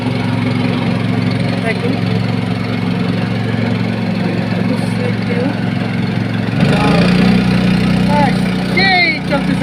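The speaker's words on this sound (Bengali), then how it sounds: "দেখেন আমাদের বোট কত স্পিডে চলতেছে" A motorboat engine running at speed, a loud, steady drone that fills the whole stretch with a shift in tone partway through, while people talk over it.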